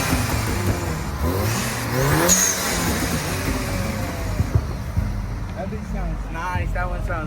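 Loud car revving at a car meet with over 200 cars, its engine roaring and rising amid crowd noise. Voices talk over it throughout, and further engine growls come and go in the background.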